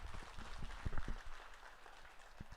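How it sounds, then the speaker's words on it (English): Applause at a 4-H show for senior showmen and groomers, a short burst of scattered clapping heard fairly faintly from a distance, thinning out after about two seconds. "Could we give a huge round of applause for these senior showmen and groomers here today?"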